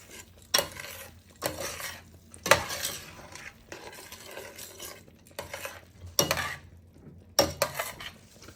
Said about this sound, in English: So I just pour a little bit of the broth in and stir that in.